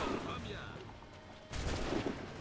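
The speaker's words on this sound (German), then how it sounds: "ich mag überhaupt nicht die Leute, die hier die ganze Zeit schießen" Enemy gunfire in the video game Assassin's Creed III, a dense rolling crackle of shots with a louder burst midway, over game noise and a person's voice.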